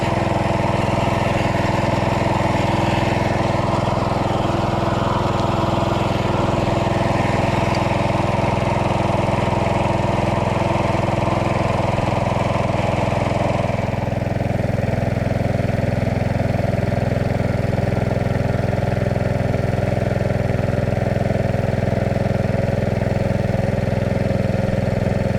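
A gasoline motor runs steadily and loudly without pause, its even droning hum holding throughout with a slight shift in tone midway, and no voices over it.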